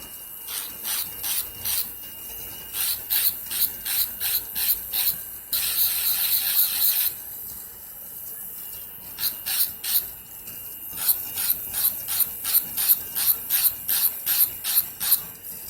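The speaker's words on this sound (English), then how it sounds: "this drill is not giving me a smooth application" Repeated short bursts of a high-pitched electric nail drill grinding and filing, coming in rhythmic strokes with a few longer continuous runs.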